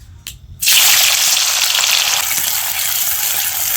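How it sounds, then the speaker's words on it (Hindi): Paneer drops into hot oil after a short quiet moment, setting off a sudden loud, dense sizzle that holds steady and close. "फ्राई हो चुका है पनीर"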